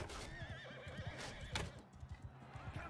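A horse in the Bannerlord video game gives a loud whinny over a steady rumble of battle and hoofbeats, with a sharp impact midway and scattered clatter toward the end.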